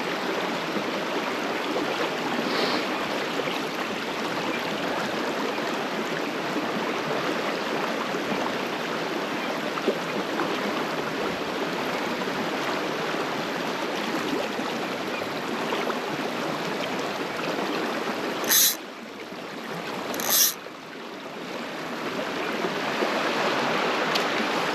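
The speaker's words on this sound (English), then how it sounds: "Quite fast water here" Fast-flowing river water on a low, clear salmon beat rushes in a steady, broad wash throughout, with two brief louder splashes or knocks near the end.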